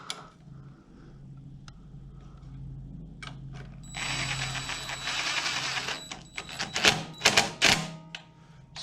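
A ratchet snugs down a screw on the Intek carburetor of a Craftsman 17-inch rototiller, model 917294484, giving close, quick mechanical clicking bursts that build toward the end over quiet shop background.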